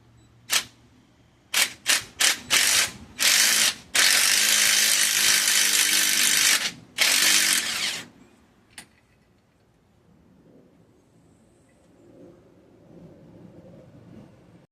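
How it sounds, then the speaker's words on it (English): An impact wrench fitted with a standard 3/8-drive socket zips bolts off the timing chain cover of a 1995 Dodge Ram 1500 5.2/5.9 Magnum. It gives several short close bursts, then one long run of about three seconds, and ends in a quiet workshop. "I'm going to use this impact that does not have an impact socket on it."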